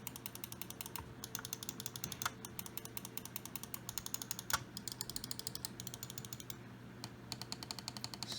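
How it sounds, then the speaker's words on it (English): Rapid clicking of a Logitech G403 Hero mouse scroll wheel being rolled, close-up and steady with dense ratcheting ticks over about eight seconds, with a few brief pauses and sharper accented clicks, no talking. "scroll wheel click."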